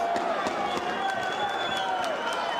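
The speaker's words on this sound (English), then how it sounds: "The crowd going nuts." Boxing match crowd cheering loudly and continuously, a dense roar with clapping and shouts throughout, mixed with the ringside commentator's talk.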